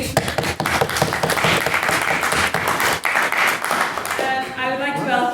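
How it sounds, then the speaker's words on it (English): Steady applause from a debate audience fills the room throughout, dense clapping that thins slightly near the end as a voice begins. "another round of applause for his maiden speech"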